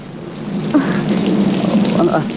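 Steady rain falls outdoors as a continuous broadband hiss, fairly loud and close, with faint voices now and then underneath.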